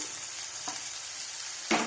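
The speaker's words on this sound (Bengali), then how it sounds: "সব একসাথে নাড়িয়ে চেড়ে ভেজে নেব" Tomato, chopped garlic, green chili and cashews frying together in a pan for paneer butter masala, giving a faint, even sizzle with a brief clink and a scrape of stirring.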